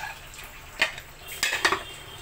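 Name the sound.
closing the pressure cooker lid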